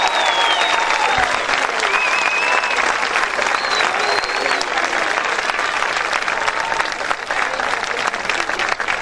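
Sustained loud applause from a crowd at a fifteenth-birthday celebration for a girl, steady dense clapping throughout with some voices and whistles mixed in.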